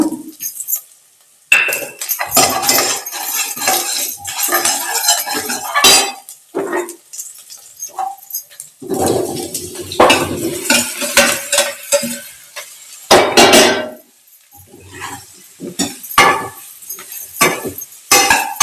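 Cassava masala seasoned with chili, curry leaves, turmeric and salt being stirred in a pan, with a spoon scraping and clinking against metal in uneven bursts over a soft sizzle, close and fairly loud.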